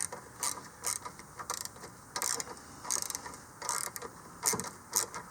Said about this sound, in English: I tighten it back up before I move on to the next parallel tooth here.